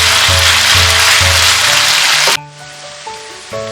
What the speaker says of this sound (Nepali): यसलाई मैले झन्डै 1 घण्टा जति यसरी फ्राई गरेको छु।